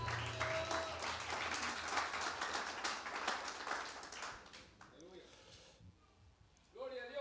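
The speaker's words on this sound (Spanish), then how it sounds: "Damos un aplauso a Cristo Jesús" A church congregation claps in praise during a sermon, a loud, full round of applause that fades over several seconds, after which a voice begins speaking.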